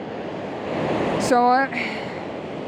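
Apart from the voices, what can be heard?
ocean waves coming in powerfully on a Northumberland beach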